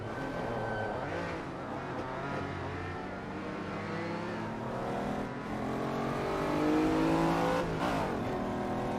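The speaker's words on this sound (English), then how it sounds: "Well, I think flooring it's a pretty dangerous proposition in this car, Jim, to be honest" A car engine revs hard under full throttle from a standing start at a green light, a loud continuous roar with rising harmonic sweeps that climb through the gears, staying close and dominant throughout.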